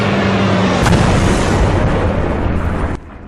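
Stuka bombing-run explosions in the tactical shooter Post Scriptum, a loud, sustained roaring blast that rumbles for about three seconds before cutting off.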